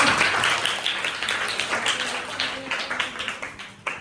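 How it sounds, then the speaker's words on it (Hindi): Audience applause for Rohit ji at a school awareness program on the Indian Constitution, a dense sustained crowd clapping that thins toward the end into a few scattered claps. "रोहित जी के लिए तालियां हो जाए"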